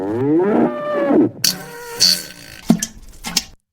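A cow gives a long, loud, close moo, followed by a few shorter rough grunts and snorts, with no talk over it.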